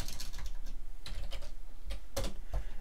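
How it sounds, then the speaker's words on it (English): Clicky keystrokes on a computer keyboard, typed in short uneven bursts with brief pauses, close and fairly crisp over a low background hum. "I'll just type in here."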